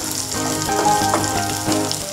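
Garlic pieces fry in a pan for capsicum chilli paneer, giving a steady, close sizzle that continues without a break and without voices.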